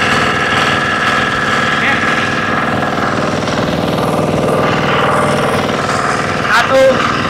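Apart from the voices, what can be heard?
motorcycle engine revving at 50% throttle in first gear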